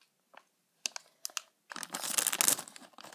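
Several short crinkly snips and rustles, then a sustained loud crackling of plastic being cut and handled up close.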